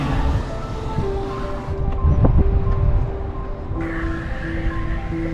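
Steady wind and lapping waves in a calm northern bay beside a sailing catamaran, a continuous rushing wash with gusty swells and low rumble, no voices.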